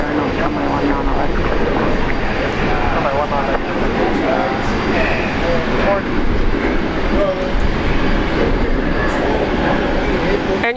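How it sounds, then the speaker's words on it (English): An Air New Zealand jet takes off at Brisbane International Airport, its engines making a steady broadband roar that runs loud throughout while people talk continuously over it. "Air New Zealand taking off"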